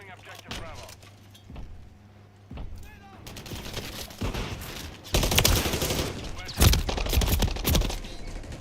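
Gunfire in the video game Call of Duty Modern Warfare III, with scattered single shots at first, then heavy bursts of automatic fire and explosions swelling loud and close in the second half.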